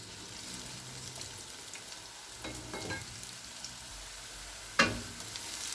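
Onions frying in a pan over medium-low flame, a continuous close crackling sizzle with a few soft stirring strokes and one sharp spatula knock near the end.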